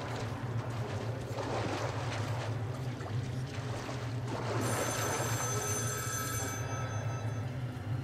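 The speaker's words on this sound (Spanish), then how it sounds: "Hay un puto teléfono aquí abajo." Telephone ringing deep underground in the video game Metro Last Light, a faint bright electronic ring entering midway over a constant low rumbling drone and echoing ambience.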